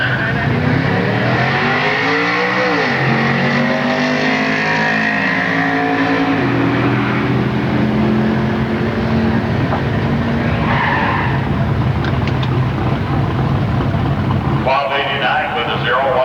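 A 1988 Ford Mustang drag racing at Milan Dragway roars loudly, its engine revving and climbing in pitch through gear changes, with tire squeal and an announcer's voice over the racket.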